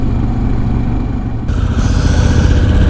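A Harley-Davidson Glide motorcycle rides on a cold winter road, its loud, steady low engine rumble mixed with wind noise, growing slightly louder halfway through.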